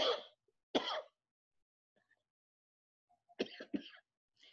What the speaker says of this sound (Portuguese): às vezes falando vai provocando tosse